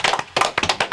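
Audience clapping, a few close, sharp hand claps in quick uneven bursts with brief gaps, loud and alone.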